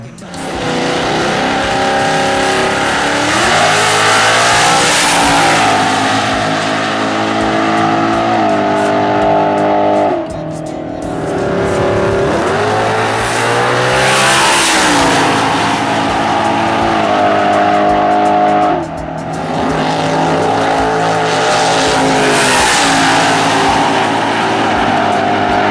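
A 2016 Ford Mustang Cobra Jet drag car revs hard in repeated loud, rising engine pulls, with brief dips between bursts and a racing-car roar filling the clip.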